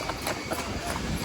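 Horses' hooves clip-clop on a street in Buzios, a quick run of close, sharp hoof strikes over steady background noise.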